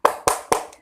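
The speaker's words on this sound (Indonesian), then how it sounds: "Tepuk semangat." A classroom of sixth-grade pupils performs a rhythmic clapping routine, three sharp, loud unison claps evenly spaced, with a faint fourth tap trailing at the end.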